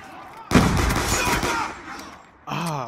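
A pistol fires in the video game Call of Duty Black Ops II: one sharp, loud shot bursts out and rings away, followed by a second burst, with a voice talking briefly at the start.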